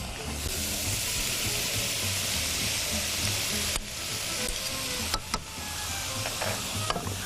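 Prawns stir-fried into vegetable egg fried rice in a hot pan, a loud continuous sizzle and hiss with brief scraping stirs and clicks, close, no talking.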